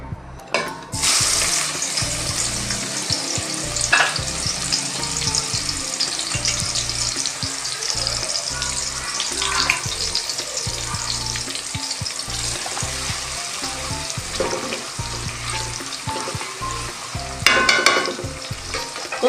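Medium onions frying until brown in a pan for paya masala, a steady close sizzle with occasional stirring scrapes, and a brief burst of running water near the end.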